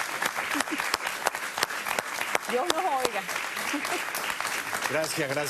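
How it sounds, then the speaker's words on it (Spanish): Studio audience applause for a guest on a Spanish-language interview show, brisk clapping heard beneath short spoken thanks and overlapping voices. "Un gran aplauso para ella."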